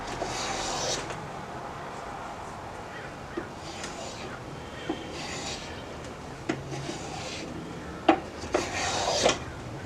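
A block plane shaving soft poplar wood up close, a series of short rasping strokes with scattered clicks and knocks, growing sharper near the end.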